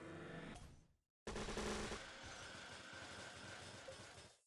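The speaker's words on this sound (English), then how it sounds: "so we'll do disco ball rocket combo" Disco ball and rocket combo going off in the Toon Blast mobile puzzle game: a short musical cue breaks off, then a dense burst of rattling, crackling blasts follows, loud and continuous for several seconds before fading out.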